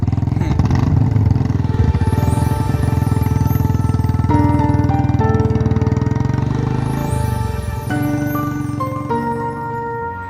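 A motorcycle engine drones loud and steady while riding, with a low rumble and a faint clatter and pitch shifts as the bike changes speed. No speech is heard.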